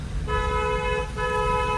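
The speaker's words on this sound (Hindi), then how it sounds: "इसको हॉर्न दो" A car horn sounds two steady toots on a rough village road, the first held almost a second and the second longer after a brief gap, over a low rumbling engine and road noise.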